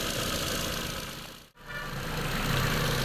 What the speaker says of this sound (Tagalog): So ngayon papainitin muna po natin tong makina na to.